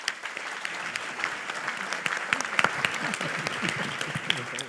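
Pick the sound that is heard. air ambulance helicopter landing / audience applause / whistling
audience applause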